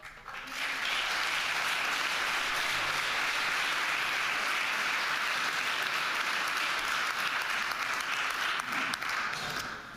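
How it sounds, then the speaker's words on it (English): An audience at a worship event with a live band breaks into sustained, dense applause. The clapping holds loud and even for nearly the whole stretch before tapering at the end. "you can give applause"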